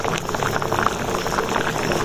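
Dal mash (lentils) simmers in a pot, giving a steady, close bubbling and boiling hiss with small pops that continues without pause.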